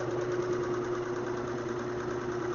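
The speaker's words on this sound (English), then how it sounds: "start the induction motor to start the process going, and we'll see power consumed. And we turn on the compressed air" An induction motor hums steadily with compressed air running through a slam valve setup, giving a constant mid-pitched drone with a faint tonal whine and no breaks.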